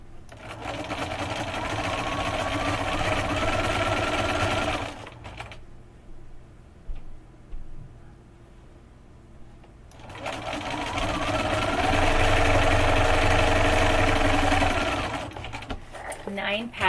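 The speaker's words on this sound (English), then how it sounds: "I'm going to go ahead and sew that together." A sewing machine stitching the seams of a quilt block, running in two long steady whirring bursts separated by a quiet pause, close and loud.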